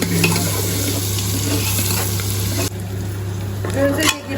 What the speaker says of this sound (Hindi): ये प्याज हमारा हो रहा है फ्राई और इसमें जा रहा है हरी मिर्च